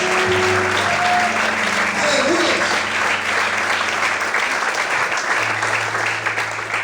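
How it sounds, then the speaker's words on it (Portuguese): Church congregation clapping at an evening service, a dense, sustained round of applause from many people layered over held music notes, loud and steady for several seconds. "Aplauda Ele nessa noite"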